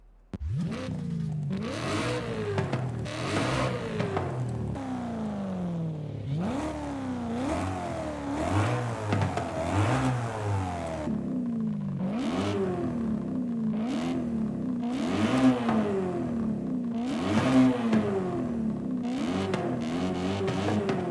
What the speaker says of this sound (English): And a better exhaust so we can really open up that V8.